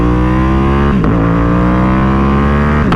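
A Ducati Panigale V2 fitted with custom magnesium wheels revs loud and close. Its engine note climbs, drops sharply at an upshift, then climbs again with a steady rising pitch, and another quick shift comes at the end.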